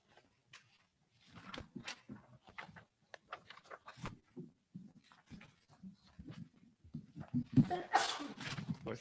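Someone sneezes once near the end of a quiet staff bargaining meeting, a sharp burst after scattered rustling, breathing and small handling noises.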